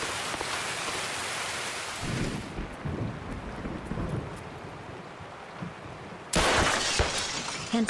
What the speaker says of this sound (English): Why is it raining here?